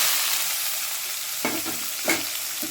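Onion and ginger sauté in hot oil with mustard seeds in a pan, a steady loud sizzle with a few brief scraping stirs of a spoon, no talking.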